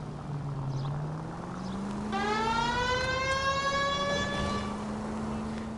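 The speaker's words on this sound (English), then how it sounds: "we might get there quicker if you use the siren" Police car siren in the video game L.A. Noire: a rising wail that settles into a steady, drawn-out tone, heard over continuous engine and road rumble from the car, with no talk over it.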